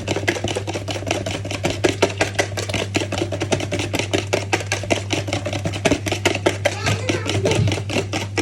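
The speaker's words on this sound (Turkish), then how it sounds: "Sadece karıştırıyorum ben." Cake batter stirred by hand in a bowl, a quick, steady run of close tapping and scraping strokes over a constant low hum, with no voices.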